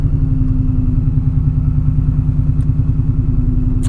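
Supercharged BMW E39 M5 with an S62 V8 that is failing to build boost, heard from inside while cruising: a steady, loud, droning engine note with a constant hum and rhythmic mechanical pulsing, no talk.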